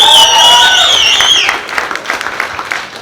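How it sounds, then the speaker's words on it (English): Applause from a fight-promotion press conference audience, a loud tonal whistle or cheer in the first half fading into scattered clapping that thins out toward the end. "Give me a round of applause"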